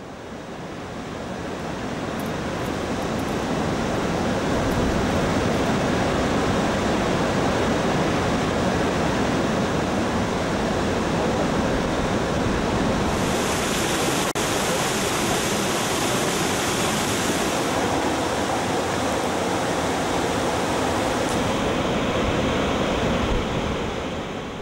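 Rushing water of the Alara stream (Karıncalı Dere), gaining strength as it flows through a rocky valley, a steady broadband roar that stays loud and close throughout with no voices.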